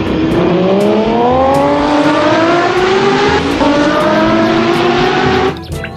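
A high-revving toy racing motorbike engine sound screams and climbs steadily in pitch, loud and continuous, dropping away just before the end.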